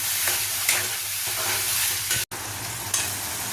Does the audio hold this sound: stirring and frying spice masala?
yes